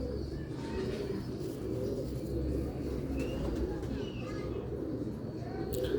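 Rooftop pigeons coo softly amid a busy low background rumble, with faint murmuring cooing calls and occasional light chirps scattered across a few seconds.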